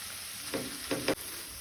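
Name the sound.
masala frying in oil for stuffed brinjal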